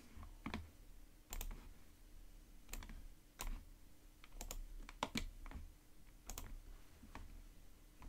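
Quiet, irregular taps on a computer keyboard as an admin password is typed, with short clusters of clicking keystrokes separated by brief pauses.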